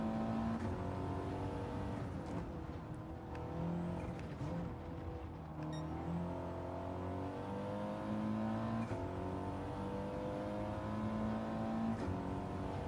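A turbocharged race car engine in Gran Turismo 7 drones steadily and loudly throughout, its pitch rising and falling as it revs and shifts, with no talking over it.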